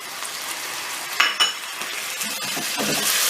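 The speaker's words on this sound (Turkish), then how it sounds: "Güzel bir kavrulmadan sonra bir kaba küp küp doğradığımız domatesleri de atıyoruz." Diced tomatoes sizzling in a hot pan while being stirred for barbunya pilaki, with a couple of sharp utensil clinks against the pan partway through.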